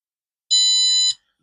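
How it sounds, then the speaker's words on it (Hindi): A multimeter set to continuity buzzer mode, probing the outdoor PCB of a DC inverter air conditioner, gives one steady, clear beep lasting just over half a second in an otherwise silent background. "ये बजर मोड पे मैंने मीटर को लगाया हुआ है, तो अब बजर मोड पे आपको बजर की आवाज सुनाई देगी"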